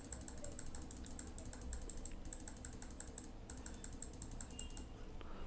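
Someone types on a computer keyboard, producing a rapid, fairly even run of light key clicks close to the microphone over a low background hum, with no speech.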